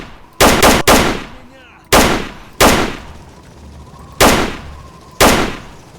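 Gunfire from iron-sighted weapons in the video game STALKER: Lost Alpha: sharp, loud shots in small bursts and single taps, spaced irregularly with brief gaps between them.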